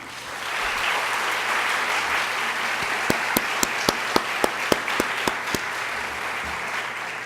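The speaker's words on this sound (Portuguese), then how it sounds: "Convidamos a todos, mais uma vez, a saudá-los com uma salva de palmas." An audience applauds steadily, with one person's louder, evenly spaced claps standing out near the front for several seconds before fading back into the crowd.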